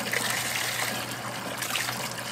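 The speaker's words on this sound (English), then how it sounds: "Look at all this water coming out." Steady running water flushes out through a plant pot in a grow tent with a SCROG net, a continuous close trickling and gushing stream with a low hum underneath.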